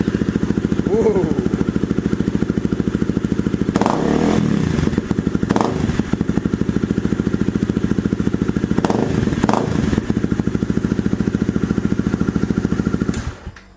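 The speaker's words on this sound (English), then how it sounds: "what this bike sounded like with and without the snorkel in it" A motorcycle with a stage 1 kit and its intake snorkel removed idles loudly and steadily up close, with a few throttle blips breaking through before it cuts off at the end.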